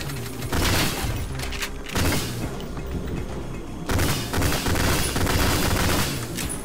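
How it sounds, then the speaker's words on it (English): Gunfire and explosive booms in the retro shooter game Ion Fury, with enemies firing through walls: loud bursts of rapid shots and thuds in three clusters, with rumbling lulls between them. "someone's shooting me through the walls right now"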